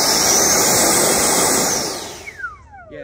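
An E-flite F-16 RC jet with an 80mm electric ducted fan, FMS 3665 2000KV motor, spools at high throttle, a loud, close, piercing whine and rush of air that then winds down, its pitch falling sharply as it fades.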